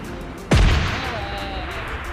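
A single sharp RPG blast in a battle royale shooter game, a sudden loud boom with a long decaying rumble trailing over steady background noise.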